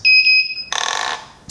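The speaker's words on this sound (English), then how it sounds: "the quadcopter emits a beep and the motors are now active" Walkera F210 quadcopter giving electronic beeps as its motors lock: a steady high two-tone beep, then a brief pause and a louder rapid pulsing tone, close and clear with no talk.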